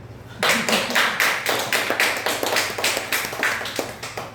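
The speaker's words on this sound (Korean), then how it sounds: "박수 한번" Applause and clapping from a church congregation during a Sunday service, a dense steady patter of many hands that starts abruptly and continues throughout with a low background hum.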